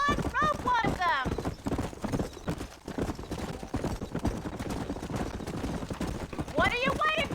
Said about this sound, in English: I'd rather look for these horses over here.